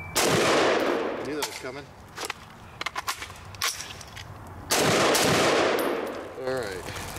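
Rifle fitted with a Midwest Industries MI-10F handguard firing during a shooting drill, loud close bursts of rapid shots with echoing tails, separated by a pause and brief talk.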